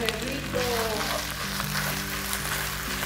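Lean ground beef fries in a pan for huaraches, releasing its own oil. A steady, dense sizzle runs unbroken throughout at close range, with some tonal background sound underneath.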